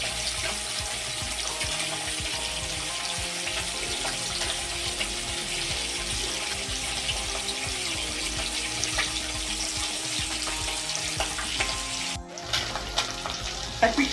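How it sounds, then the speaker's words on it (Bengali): Pabda fish fries in hot oil, giving a continuous dense sizzle with scattered crackles and pops that stays fairly even throughout, close up and without talk. "ভীষণ ফাটে, ফাটফাট করে সারাক্ষণ যতক্ষণ মাছ ভাজা হয়"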